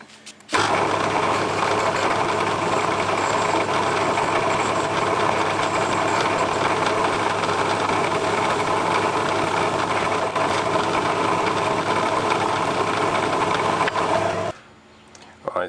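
A metal lathe runs steadily while it turns a small rounded edge on a tiny oil can part. The even machine hum starts abruptly, holds for about fourteen seconds, then cuts off.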